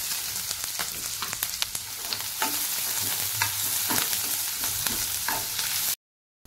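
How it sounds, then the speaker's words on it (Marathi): Chopped green chilli and onion frying in hot oil, a steady close sizzle broken by the scrape and clatter of a spoon stirring in the pan, cutting off abruptly near the end. "तेल गरम झालं की त्यामध्ये टाकूयात बारीक चिरून घेतलेली हिरवी मिरची, त्यानंतर बारीक चिरून घेतलेला एक कांदा, तो पण आपण यामध्ये फ्राय करून घेऊया।"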